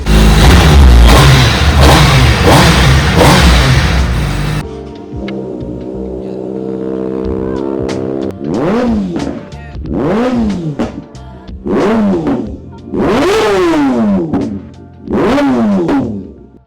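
A stock Suzuki Hayabusa motorcycle revs alone: a loud opening rush of engine noise, then idle with a series of sharp, rising throttle blips that climb and fall in quick bursts, several in a row.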